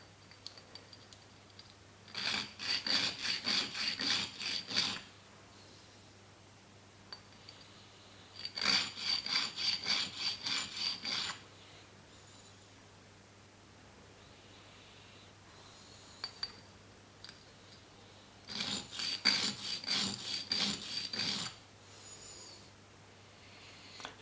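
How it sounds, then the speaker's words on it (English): A steel shaper tool is rubbed on a bench stone in three separate bursts of gritty back-and-forth scraping, each a few seconds long, with quiet pauses and a low steady hum between them. "Now onto the bench stone, we'll try and put a bit of an edge onto this shaper tool."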